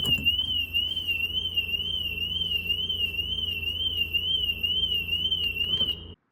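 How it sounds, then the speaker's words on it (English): A BMW 435 car alarm wails continuously, its steady warbling electronic tone holding loud and close for about six seconds before cutting off abruptly. "before you remove the battery, turn off the alarm."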